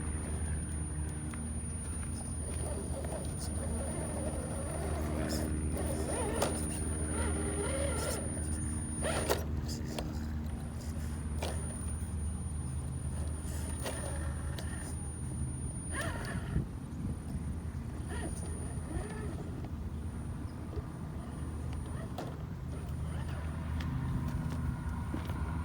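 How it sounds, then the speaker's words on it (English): Element Ecto RC truck grinding its way off an obstacle after bottoming out, with a whirring electric motor and clattering suspension and tires in irregular bursts, close and fairly quiet throughout. "See if I can work the truck off of there."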